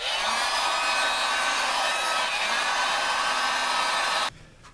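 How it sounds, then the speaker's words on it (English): A heat gun blows a steady, loud, close airy roar while shrinking heat-shrink tubing over wire connectors during a skoolie power center install, running continuously for about four seconds before cutting off abruptly. "Now I'm gonna heat shrink all the connectors."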